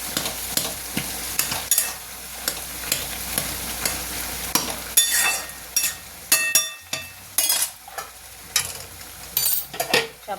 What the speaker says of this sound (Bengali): গ্যাসটা একটু জোরে দিয়ে ঝোলটা একটু মারবো, হতে থাক।